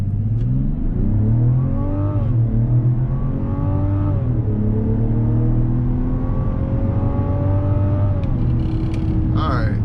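A 2024 Mazda CX-90 SUV accelerates hard from a stop to 60 mph in regular drive mode. Its engine note climbs steadily through several upshifts, heard from inside the cabin with steady road and wind noise underneath.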